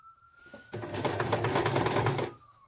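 A sewing machine runs a quick burst of stitching on a messenger bag, including a few reverse stitches, a close, busy mechanical whirr lasting about a second and a half between short quiet pauses.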